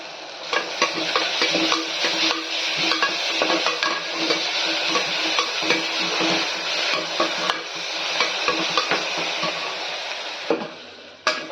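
Ginger garlic paste sizzles and spits steadily in a hot pan while a utensil stirs and scrapes against the metal, with no talking.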